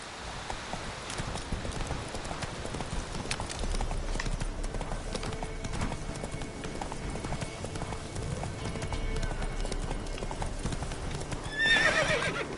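A horse in The Witcher 3: Wild Hunt gallops with a fast, steady clip-clop of hooves, closing with a whinny near the end, its footfalls loud and continuous against quiet game ambience.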